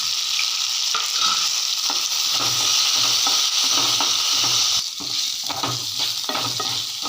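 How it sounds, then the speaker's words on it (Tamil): Onions sautéing in oil in a pan while being made into a chutney, a loud continuous close sizzle with steady stirring scrapes throughout. "எண்ணெயிலேயே வெங்காயம் போட்டதெல்லாம் உதிரி உதிரியாக பிரிஞ்சு வர்ற அளவுக்கு நல்லா வதங்கிருச்சு"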